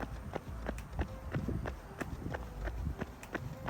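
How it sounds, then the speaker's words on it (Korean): Running footsteps in Adidas Adizero Boston 12 shoes: quick, light, regular foot strikes, about two or three per second, close and fairly crisp over steady outdoor background noise. "이 뛸 때 나는 발소리가 굉장히 경쾌하게 들려서 좋더라고요"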